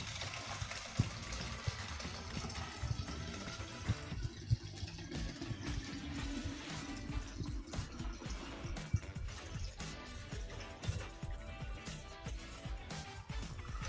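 Tap water pours from a faucet into an Aqua plastic bottle, a faint continuous splashing gush that keeps going steadily throughout.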